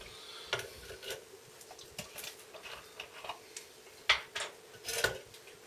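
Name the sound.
mixing bleach powder into cream with scoop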